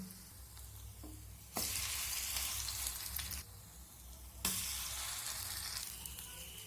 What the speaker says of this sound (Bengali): এখন একটা পুর ভরা ব্রেড আমি এই সুজির ব্যাটারের মধ্যে এইভাবে ডুবিয়ে নিয়ে ফ্রাইং প্যানের মধ্যে দিয়ে দিলাম